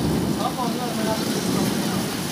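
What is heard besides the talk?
heavy rain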